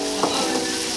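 Masala for chicken masala gravy sizzles in a pan, a continuous loud frying hiss with faint stirring scrapes.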